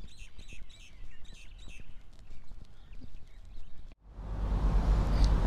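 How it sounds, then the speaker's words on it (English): Birds chirp and sing in repeated bursts in a forest in Rotorua, New Zealand, over rhythmic hoof clip-clops, then a sudden cut into louder rushing ambient noise. "all you can hear is the birds"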